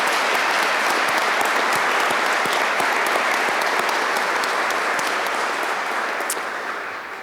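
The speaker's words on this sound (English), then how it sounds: "Would you please join me in a round of applause for these folks that made this possible?" Sustained applause from a graduate commencement audience in a college venue, dense and steady clapping close and loud for several seconds before tapering off at the end, with no voices over it.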